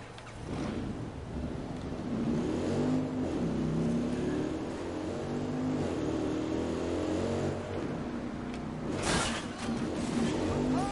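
Motorcycle engine in Watch Dogs 2, a steady revving drone that rises and falls as the bike accelerates, with wind rush and a brief louder burst near the end.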